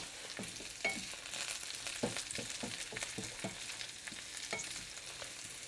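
Potatoes fry in a pan for a high-protein breakfast, a soft steady sizzle punctuated by repeated scraping stirs of a utensil at an uneven rhythm, close and fairly quiet, with no talking.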